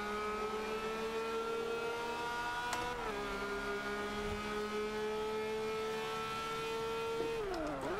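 A car engine roars at sustained high revs in the racing game Forza 5, steady and loud, with shifts in pitch near the third second and near the end.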